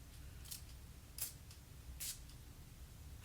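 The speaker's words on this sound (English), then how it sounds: "I'm gonna spritz this." A perfume spritzer pumped twice, giving two short, crisp hissing sprays close by, with a few faint clicks of the nozzle in an otherwise quiet room.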